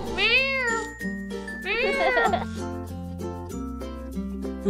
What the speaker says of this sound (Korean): 고양이 소리가 들리는데?